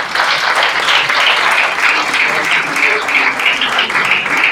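Loud, sustained applause from a crowd at an alumni network launch event, dense and steady clapping with cheering voices mixed in throughout.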